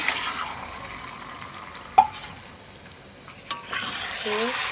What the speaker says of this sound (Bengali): নাড়াচাড়া করে নেবো